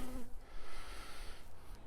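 Honey bees buzz around an open hive in a steady, soft, continuous drone that stays low in level and fills the whole moment without any talk.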